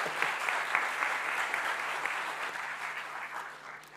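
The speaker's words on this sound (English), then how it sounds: "with your big round of applause, Skylar." Audience at a blockchain developer conference breaks into a big round of applause, with dense, steady clapping sustained throughout at fairly close range.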